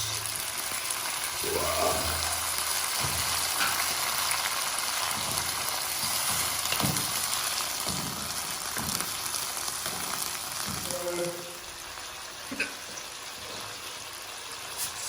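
Tomatoes with their juice sizzle in a pan of okra, a steady wet crackling hiss with occasional soft stirring clinks, and a brief voice speaks once.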